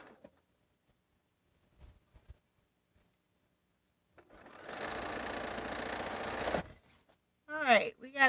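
Sewing machine stitches quilt nine-patch units in one steady run of about two and a half seconds amid quiet clicks, followed by a brief spoken voice.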